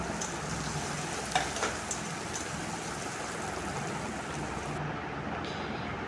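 Chopped onion fries in hot oil for a pabda fish curry, giving a dense, continuous sizzle that stays close and even throughout, with a faint clink or two from the pan.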